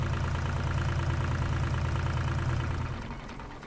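A Massey Ferguson tractor engine idles in Farming Simulator 25 with a steady, close, low rumbling drone that dips slightly in level near the end; no one speaks.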